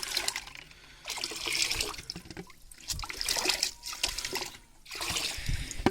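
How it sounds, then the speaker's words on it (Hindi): Jaggery syrup being poured into a container of drinking water for goats, giving a steady trickling, splashing pour that comes and goes in several bursts, close by with no voices. "ये गुड़ का शीरा इसमें डाल के इसे मिक्स कर लेना पानी में, ताकि ये अच्छी तरह इसमें हल हो जाए।"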